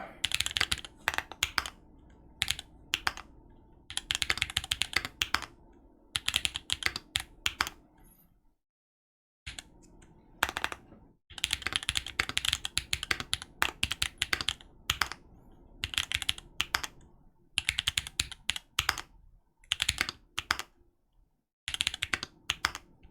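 Rapid bursts of typing on an Obliterated 75 mechanical keyboard fitted with Gazzew LT switch stems in tangerine housings, close and crisp, with brief pauses between flurries and a longer gap partway through; no talking.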